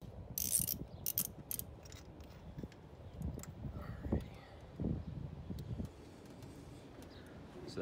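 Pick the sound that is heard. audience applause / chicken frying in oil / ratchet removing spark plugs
ratchet removing spark plugs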